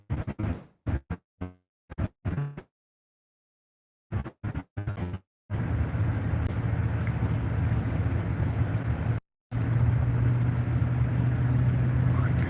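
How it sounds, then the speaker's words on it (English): Cars race fast along a road, a loud, steady broadband rumble that swells in after a few choppy bursts and holds for several seconds with one brief dropout. "Cars coming down the road awful quick."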